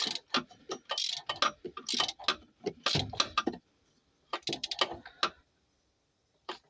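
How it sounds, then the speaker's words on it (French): A ratchet tightens spark plugs on a 1983 Peugeot 205 GR's XY engine, giving quick bursts of sharp clicking in several runs with short pauses, close and dry. "Maintenant on va reprendre le cliquet, on va les resserrer au cliquet."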